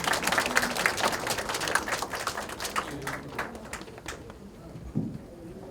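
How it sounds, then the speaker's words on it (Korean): Applause from an audience at a disability policy event in Korea, a dense continuous patter of clapping that slowly tapers off over several seconds. "큰 박수 부탁드리겠습니다"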